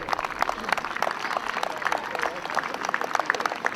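A crowd applauds Little League baseball and softball kids at an opening day event, with steady dense clapping throughout and some voices mixed in.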